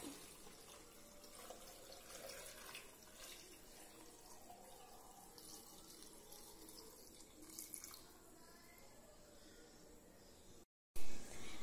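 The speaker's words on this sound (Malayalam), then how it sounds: "തിളപ്പിച്ചാറിയ വെള്ളം ഇളം ചൂടോടുകൂടി നമുക്ക് ജാറിലേക്ക് ഒഴിക്കാം." Lukewarm boiled water is poured into a jar of salted hog plums, a soft, steady trickle and splash heard close and quietly, ending with a brief louder knock.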